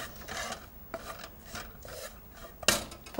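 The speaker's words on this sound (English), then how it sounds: "So just stir those, just turn the heat up a second to absorb the flour." Lamb pieces and flour scraped and stirred in a pan, rasping strokes in an uneven rhythm with a sharper clink near the end, close and quiet.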